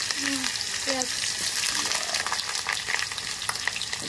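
Onions frying in a pan for a thin local chicken curry, giving a steady broadband sizzle throughout, with brief voice-like tones early on.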